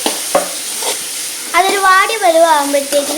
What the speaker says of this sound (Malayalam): ഇപ്പം കറിവേപ്പിലയും കൂടെ ഇട്ട് നല്ലോണം മിക്സ് ചെയ്യുക